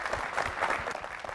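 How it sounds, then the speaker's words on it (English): A short burst of audience applause at a talk show, steady clapping from a crowd with no talking. "Please, a big round of applause for Anand."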